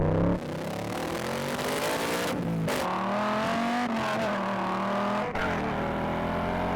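A loud American muscle car engine roars and revs hard as it accelerates off the line in a drag race, the pitch climbing through gear changes, with a brief dip partway through.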